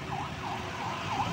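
An ambulance siren wails in a rising-falling pattern from some distance, moderately faint over the steady rumble of road traffic.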